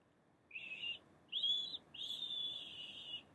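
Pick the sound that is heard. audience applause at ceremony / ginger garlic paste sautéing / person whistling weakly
person whistling weakly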